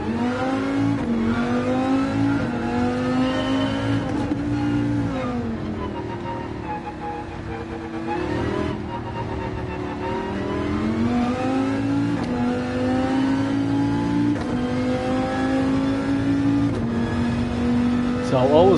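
A Dodge Viper's engine races in Gran Turismo 7, droning loud and steady with pitch that rises and falls through gear changes, while a voice talks over it.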